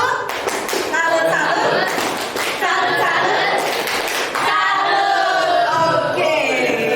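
A classroom group claps a rhythmic salute for a presenting team, the claps mixed with loud voices chanting along throughout.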